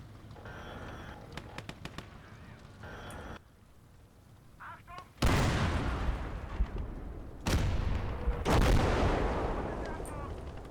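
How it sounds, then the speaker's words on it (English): Heavy artillery fire booms in the World War II strategy game Call to Arms: Gates of Hell: a few sharp distant cracks, then two loud, close blasts that roll on with long rumbling decay. "How have they still got artillery? Oh my god. So much artillery."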